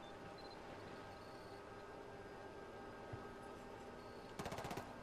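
Rapid bursts of heavy automatic gunfire from a video game break out near the end, loud and clustered after a stretch of low, steady background rumble.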